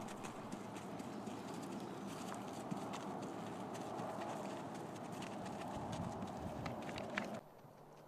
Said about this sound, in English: We had Michelle demonstrate each gait or speed twice around the arena.